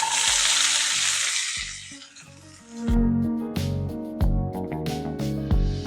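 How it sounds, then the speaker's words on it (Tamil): Green chili goes into hot sunflower oil with sautéed onion and garlic, giving a bright sizzling hiss for about two seconds. The sizzle fades and plucked, rhythmic music takes over. "வெங்காயம் பூண்டு நல்லா வதங்கினதுக்கப்புறம் பச்சை மிளகா போடுங்க"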